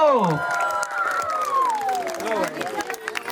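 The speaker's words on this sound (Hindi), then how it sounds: "दूल्हे वालों जरा तालियां बजा दो" The groom's side claps and cheers after winning a wedding game task, lively applause and shouts from a crowd with a loud voice carrying over it.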